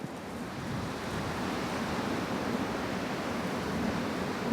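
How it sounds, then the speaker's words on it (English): Wind blowing through a forest, a steady broadband rush that holds an even, close level for the whole stretch, with no voices. "I can hear the wind coming from one location to another"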